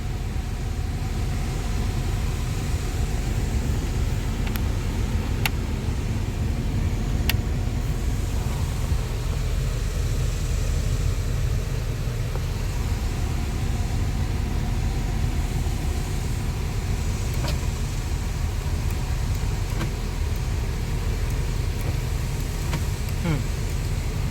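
A 2000 Pontiac Grand Am with a 3.4L engine idles steadily at close range, a constant low rumble filling the whole stretch with a faint squeaking belt riding over it and no voices.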